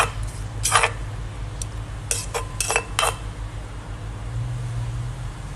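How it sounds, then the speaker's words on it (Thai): Metal utensil scooping food onto a plate while preparing Thai cucumber salad and steamed tilapia, with several short clinks and scrapes spread over a few seconds against a low steady background hum. "ตักใส่จานก่อน"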